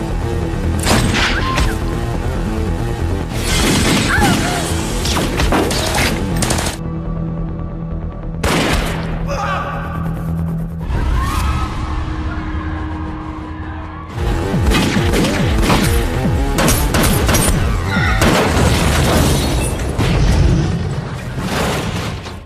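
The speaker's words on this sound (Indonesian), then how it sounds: "akhirnya sopir itu ditembak dan mengakibatkan mobilnya menabrak dan meledak" A car in the Indian film Don crashes and explodes amid a dense, loud action soundtrack of booms, bangs and impacts, with a short quieter stretch midway before the heavy crashing and blasts return.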